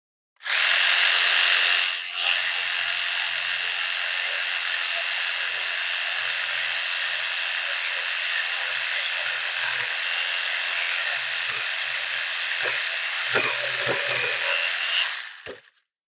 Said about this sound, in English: Corner off with the jigsaw.